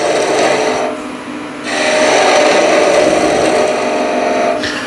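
A 1-inch skew chisel cuts a spinning wooden spindle on a lathe, a steady close rasping shave that drops off briefly and then resumes at full loudness, with the motor hum beneath and no talking.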